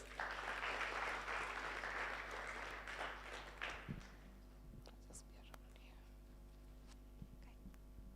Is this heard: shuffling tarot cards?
no